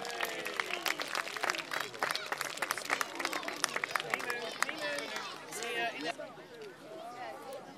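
Crowd applauding at an outdoor medieval jousting festival at Berkeley Castle, a dense patter of clapping filling several seconds and thinning toward the end, with a voice and general crowd babble mixed in.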